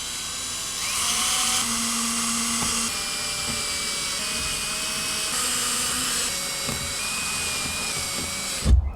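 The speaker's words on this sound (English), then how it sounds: "we can start drilling our pilot holes for the screws that we're going to be using" A power drill whines steadily while boring pilot holes with a 1/8 inch bit for number 12 screws during an RV cellular signal booster install, its pitch rising and falling across repeated bursts, close and loud with no talking.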